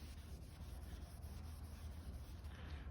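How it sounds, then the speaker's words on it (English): A towel rubs polish into the lip of a Work Meister S1 3-piece wheel, making a continuous soft, scratchy swishing of cloth on metal, close and steady with slight rhythmic strokes. "Just keep rubbing it."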